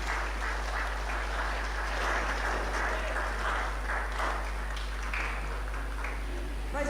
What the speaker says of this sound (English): Another round of applause for our dear Mama.